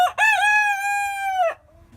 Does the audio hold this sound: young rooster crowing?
yes